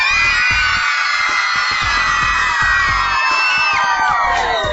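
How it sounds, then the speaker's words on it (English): Game show studio audience screaming and whooping loudly and continuously, a dense crowd roar of high-pitched yells with scattered bangs underneath. "Just listen to them scream."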